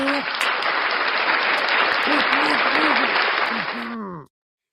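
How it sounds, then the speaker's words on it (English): Sustained applause and clapping from a group fills the scene, steady and loud for about four seconds before stopping abruptly, with a voice calling out over the clapping. "Clap for me, I clap for you."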